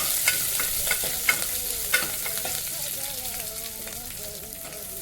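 One chopped onion fries in hot oil with curry leaves for a masappu sambar tempering, giving a steady close sizzle with occasional stirring scrapes and no voices.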